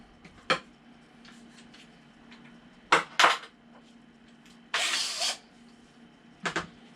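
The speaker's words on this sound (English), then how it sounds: "So we want our drill" A power drill drives a screw into wood for a backdrop build, with short separate bursts of whirring and clicks, one longer run of several seconds, between quiet pauses.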